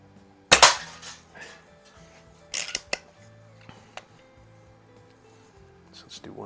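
A Quackenbush No. 1 antique air rifle firing .20 caliber pellets gives a sharp, loud report near the start, then a second burst of clacks and mechanical clicks from handling the gun, with quieter clicks afterward.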